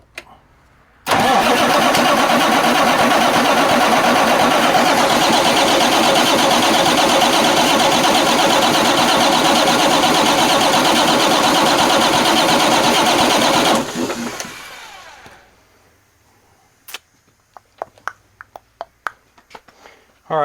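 A Marmon 57P Aero car engine cranks over loud and steady for about thirteen seconds, a continuous churning starter drone that then fades away, leaving scattered faint clicks and taps.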